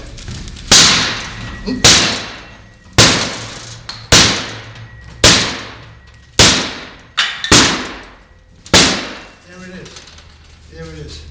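Metal tool repeatedly hammered against a door edge to force it open, about nine sharp, loud impacts at an irregular pace, each ringing briefly, with a short exclamation from a nearby voice.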